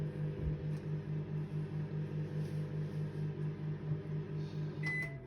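A microwave oven, freshly unboxed, heating water, hums steadily with a pulsing, rhythmic drone, quiet and close, followed by a short faint beep near the end.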